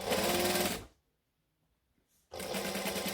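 A sewing machine stitches a Christmas tree skirt in two loud, steady runs, stopping for about a second and a half of near silence in between.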